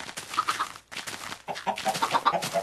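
Chickens in the video game Minecraft cluck in short, choppy bursts, moderately close, with a brief pause partway through and no talking over them.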